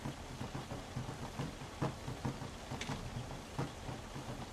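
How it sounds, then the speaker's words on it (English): Steady rain patters on a surface in a video game, with dull rumbles and thumps of thunder rolling underneath, quiet and continuous throughout. "Is that the sound of the rain?"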